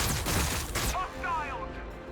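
Guardsmen open fire in the strategy game Battlesector, a brief burst of rapid shots fading into a scattered echoing tail, fairly loud and close.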